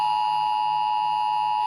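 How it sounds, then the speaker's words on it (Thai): A Thai cell broadcast emergency alert test tone plays as a steady, loud electronic beep held at one pitch with upper harmonics, continuous and unbroken with no voices. "นี่คือเสียงแจ้งเตือนที่เราใช้ทดสอบเตือนภัยผ่านเซลล์บรอดแคสต์"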